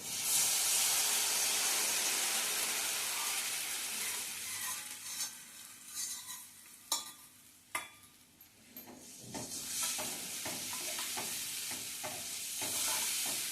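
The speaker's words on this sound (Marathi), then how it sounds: "आता हे जी भिजवून ठेवलेली भाजणी आहे ही आपण ह्यामध्ये ओतणार आहोत।" Soaked bhajani (roasted multigrain flour) batter is poured into a hot onion tempering, setting off a loud hissing sizzle that briefly dips and crackles with stirring before settling back into a steady frying hiss.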